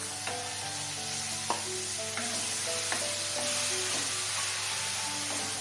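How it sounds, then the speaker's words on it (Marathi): Finely chopped tomato sautéing with onions in a pan, giving a steady close sizzle and frying hiss throughout, with light stirring clinks and no talking. "आता त्याच्यात टमॅटो तो पण मी एकदम बारीक चिरला आहे"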